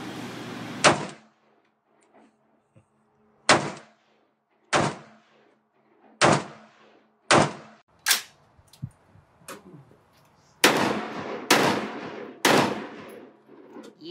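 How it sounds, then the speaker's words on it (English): Machine guns fired at a shooting range, sounding as sharp separate loud reports spaced a second or two apart, with a tighter cluster of shots near the end and quiet between them. "Machine guns. Yeah, we shot guns."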